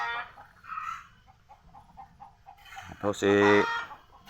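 Chickens in a coop for fighting cocks cluck sporadically, then one bird lets out a loud, close crow near the end; someone speaks briefly early on.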